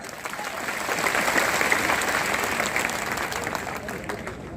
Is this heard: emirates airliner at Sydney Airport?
no